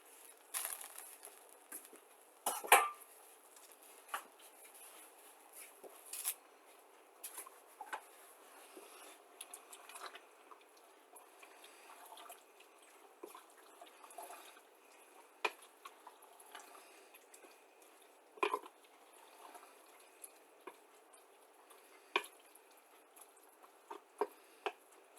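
Beans go into a pot of chili with faint, soft wet pattering and squishing, arriving in scattered small bursts and a few sharper splats against a quiet background, with no talking.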